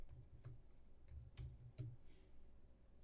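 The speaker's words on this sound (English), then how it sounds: "I'm going to go ahead and type in the words Halloween" Keys tapped on a computer keyboard, roughly half a dozen quiet, uneven clicks in a short burst, faint and close, with no voices.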